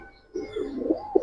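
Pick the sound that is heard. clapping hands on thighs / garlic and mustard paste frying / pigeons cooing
pigeons cooing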